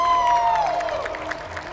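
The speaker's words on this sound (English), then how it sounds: "this is going to be a big cheer I can feel" Crowd cheers for Barbados at the 2024 FIA Motorsport Games esports event at the City of Arts and Sciences, a steady wash of cheering and applause with a falling tone sweeping over it early on.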